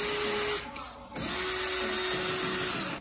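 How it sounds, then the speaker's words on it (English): A power drill whines while boring holes into a wall to reach studs, a high steady motor pitch in two bursts separated by a short pause, fairly close and loud. "You got to drill bigger holes because they're not reaching the studs that are far back there."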